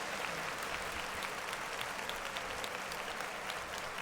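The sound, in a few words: audience clapping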